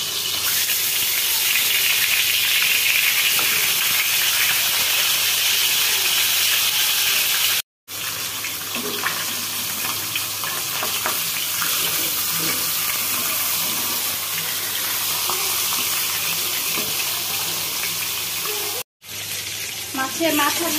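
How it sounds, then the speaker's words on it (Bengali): A fish head fries in hot oil in a pan, making a loud, continuous crackling sizzle that runs for about twenty seconds with two brief cut-outs. "এখন আমি মাছের মাথাটা ভেজে নিব। এই জন্য আমি একটা প্যানে কিছু তেল গরম করে নিয়েছি।"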